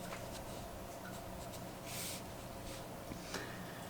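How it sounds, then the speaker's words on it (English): A pen draws lines across folded paper for an Among Us Mechagodzilla surprise-fold drawing, giving a steady, close, soft scratching that runs the whole time with slight shifts in pressure and no talking. "I'm going to start here and draw another line that's going to come to the fold"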